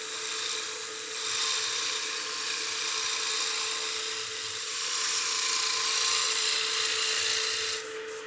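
A wood lathe spins a baseball bat blank while a spindle roughing gouge cuts it, producing a continuous steady hiss and scraping rasp with a constant motor hum, close and loud, ending abruptly.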